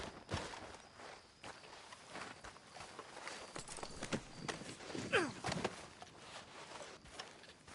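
Horse hooves clop at a walking pace in Red Dead Redemption 2, a steady irregular patter under the game's ambient noise and music, with a brief whinny-like cry midway.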